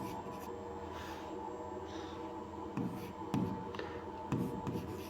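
Chalk or a marker scratches and rubs across a classroom board during a Class 10 maths lesson, a steady run of rasping strokes with a few firmer taps over a constant background hum.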